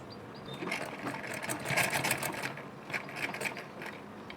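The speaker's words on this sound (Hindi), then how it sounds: "अब चलिए इस पर सिलाई लगा लेते हैं।" A sewing machine runs steadily, stitching pleats onto a puff sleeve: a continuous close mechanical whir with rapid needle ticking, rising and easing slightly in pace, with no talk over it.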